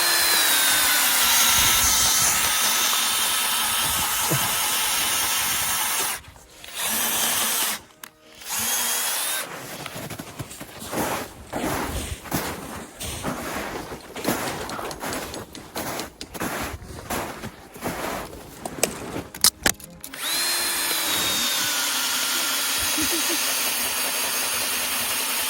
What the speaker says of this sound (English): Then I got the drill.